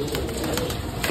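Pigeons coo close by in a brief, soft burst. Faint wing or rustling sounds sit in a noisy, muffled background.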